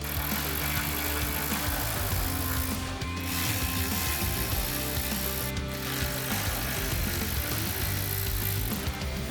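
Ratchet with a 10mm socket backs out the headlight mounting bolts on a 2014-2024 Toyota 4Runner: a steady, close run of rapid clicking pawl ticks that continues throughout, loud and without pause.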